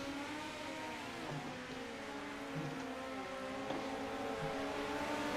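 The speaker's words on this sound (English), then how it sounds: "let you guys enjoy the sights and sounds of the cars" Simulated race car engines in the iRacing game hum and shift pitch continuously as several cars lap during a warm-up, a steady layered drone with no talking.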